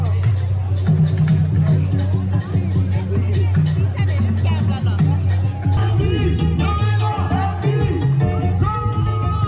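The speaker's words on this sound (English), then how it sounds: "The most busy place in festival. Look at the crowd." A dense festival crowd at Dark Mofo in Tasmania fills the air with loud, continuous babble of many voices close around, over a low rhythmic thump of music.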